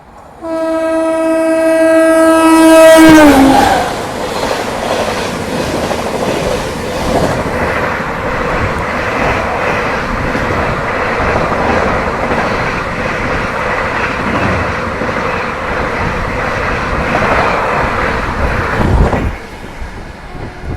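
The Patna Tejas Rajdhani express blasts its horn with a loud two-tone call, then thunders past at speed, a dense steady roar of wheels and coaches that holds for many seconds before cutting off.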